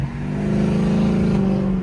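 A Lexus IS F's engine revs up and holds while the car drives through a turn, a loud, close, smooth tonal growl that climbs in pitch and then settles, with no talking.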